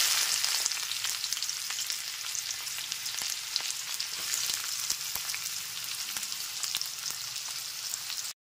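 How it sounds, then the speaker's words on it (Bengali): Two medium chopped onions sizzle in hot oil and ghee for chicken korma, a steady close frying crackle with bright hiss and scattered pops, no voices. "তেল আর ঘিটা এখানে খুব ভালো মতো গরম হয়ে গেছে। এরপর এতে 2টো মিডিয়াম সাইজের পেঁয়াজ কুচনো দিয়ে দিলাম।"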